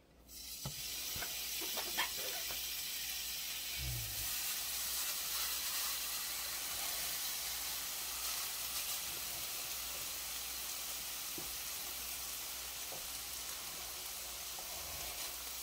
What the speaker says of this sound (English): the first thing I'm going to do is drop our burgers in